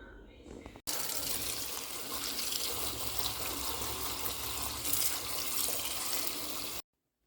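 Tap water gushes steadily over freshly picked homegrown lettuce in a sink, a loud, close, continuous splashing rush that starts abruptly and cuts off just as suddenly.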